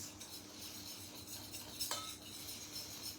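Spoon stirring a banana cookie mixture in a bowl, soft, quiet scraping with a single light clink of metal against the bowl.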